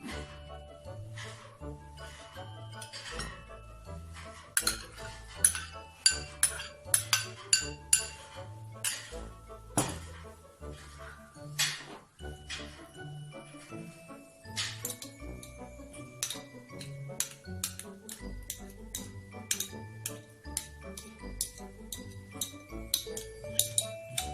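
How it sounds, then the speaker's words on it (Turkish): A spoon stirs yogurt and mustard in a bowl, giving a long run of light, close clinks and scrapes against the dish at an uneven rhythm, fairly faint overall. "karıştırmaya devam ediyoruz."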